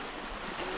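Flowing stream water on the Doodhsagar trek in Goa, a faint steady broadband rush with some wind buffeting the microphone.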